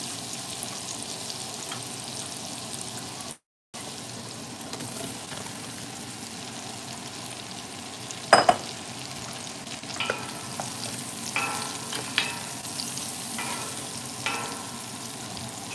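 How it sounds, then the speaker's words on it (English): Potatoes frying in bacon grease in a Finex 7.25 qt cast iron Dutch oven give a steady close sizzle, with vigorous stirring adding scrapes and clinks, plus a brief dropout early on. "Trying to get all these potatoes coated with that bacon grease, that bacon fat. Well, I'm stirring all this pretty vigorously right now."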